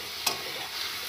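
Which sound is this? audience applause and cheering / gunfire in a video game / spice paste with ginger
spice paste with ginger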